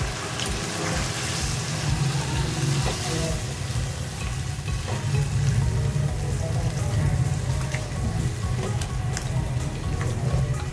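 Water poured into a hot pan of potatoes and bell peppers sets off a steady, close sizzling and bubbling that holds at an even loudness throughout, with no voice.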